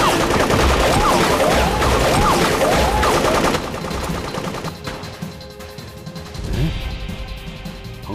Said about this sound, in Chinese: 鹏飞那边怎么开枪了？